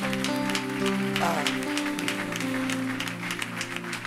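Church congregation applauding and cheering after the pastor's acclamation, a dense clatter of clapping mixed with voices and sustained tones from instruments in the background.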